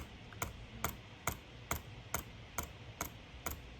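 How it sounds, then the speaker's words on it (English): Computer mouse button clicking at a steady pace, eight sharp close clicks evenly spaced about half a second apart, alone with faint room noise. "You see how I'm clicking right now?"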